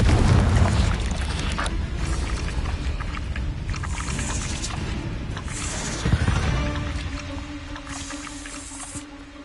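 A Confringo fire spell goes off in the Hogwarts Legacy video game: a loud low boom opens and slowly rumbles away, a sharper thud lands midway, and faint whooshes and tonal game sounds trail off, with no voices.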